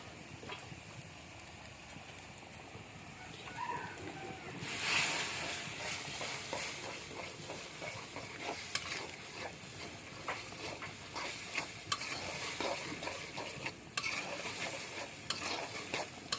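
Ground cumin, garlic paste and ginger paste frying in a pan, a soft steady sizzle with scraping stirs that grows a little louder midway, with occasional light clinks and no voices.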